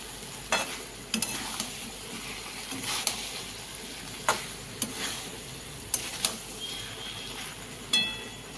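Taro stolons coated in mustard paste fry gently in a pan, a soft steady sizzle broken by scattered sharp clicks and taps from stirring, close and fairly quiet with no voices.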